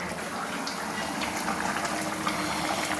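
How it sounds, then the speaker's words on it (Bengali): Mutton simmering in a kadai (wok), a steady bubbling boil with a continuous wet hiss and no break throughout. "আমি কড়াইতেই রান্না করছি, কষিয়ে রান্না করছি, কড়াইতেই সেদ্ধ করছি"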